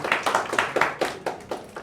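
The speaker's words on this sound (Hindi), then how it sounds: "वेरी गुड, ताली बजाओ।" A group of students claps in a loose, regular rhythm of about eight distinct beats, close and moderately loud in a classroom.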